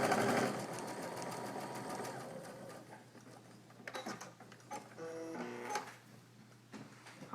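A sewing machine stitches a chain of flying geese quilt units, a steady mechanical whir up front that fades into quieter, uneven clicks and handling noises.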